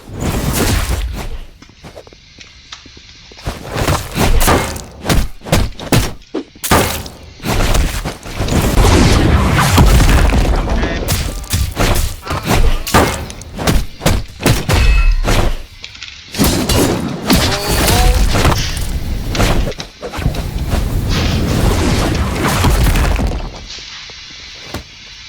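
Uppercut punches landing in the video game Dudes Battlegrounds, a rapid series of loud, close thudding and crashing impacts with brief gaps between bursts.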